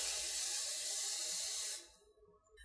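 Water pours in a steady, hissing stream into a bowl of cereal, fairly close and continuous, then cuts off abruptly, leaving a few faint drips and a brief quiet splash.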